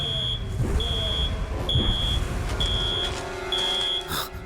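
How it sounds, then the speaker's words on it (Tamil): An alarm beeps in a steady repeating pattern of five long, even tones over a low rumble of background noise, with faint voices in a film scene. "ஆனா எதுக்காக இன்னும் அலாரம் வேலை செய்யுது?"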